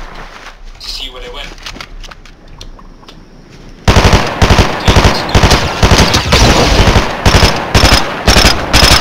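Gunfire from a video game: after a quieter stretch, loud rapid automatic bursts fire in repeated rhythmic volleys, close and dominant, with a voice talking during the quieter stretch before the shooting starts.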